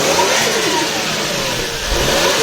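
A Toyota Crown Athlete V's engine revs hard in a loud, continuous roar that holds steady close by for the whole stretch, with no voices.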